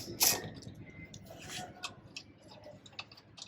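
Clicks and ticks of a wrench loosening an E18 E-Torx bolt on the starter of a BMW 3 Series, with one sharp ratcheting burst near the start, then scattered light mechanical ticks close by.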